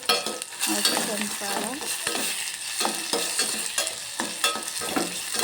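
Red chilli and green chillies dropped into a frying pan of hot oil, a continuous close sizzle with repeated rhythmic stirring scrapes and clatters throughout, no talking.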